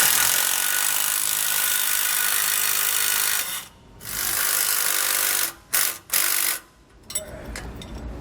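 A power driver with a 7/32 Allen bit tightens a cap head bolt on a rear anti-sway bar under a 2020 Winnebago Vista. Its steady whirring runs for several seconds, then breaks into short stop-start bursts.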